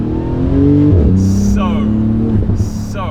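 A Porsche 911 GT2 RS with 777 horsepower revs hard on a tight, narrow back road, its engine note rising through gears with sharp shifts, loud and close, while someone talks over it.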